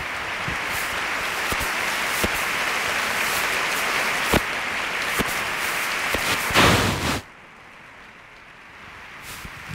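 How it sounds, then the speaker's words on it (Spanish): An audience applauds and gives an ovation for the proclaimer at a Holy Week proclamation event. A dense, loud, steady clapping sounds with a few sharp cracks, then it cuts off abruptly into near silence. "ahí la primera ovación de las muchas que estamos seguros que va a recibir"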